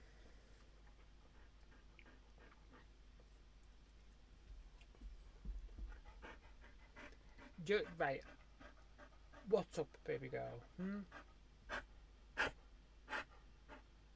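Dog heavily panting close by, rapid rhythmic breaths growing louder in spurts over a quiet background, while a person speaks briefly to her.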